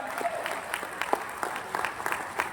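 Applause from an audience at a business management presentation, scattered claps rising and falling steadily for a couple of seconds at moderate distance, with no speech over it.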